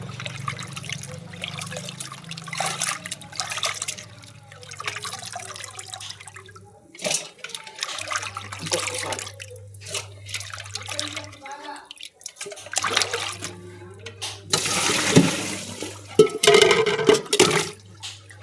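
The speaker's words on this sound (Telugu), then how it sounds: "ఇప్పుడు మామూలు వాటర్ పెట్టి కడుగుతున్నామండి" Cleaned fish pieces being rinsed under running tap water, a steady splashing flow that starts and stops in bursts with sloshing in a basin, under intermittent talk and a low background hum.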